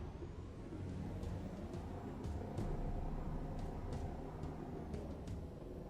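A modded vehicle engine in Halo 3 drives along with a dense, continuous low rumble and a few faint high clicks, loud and steady throughout with no voices.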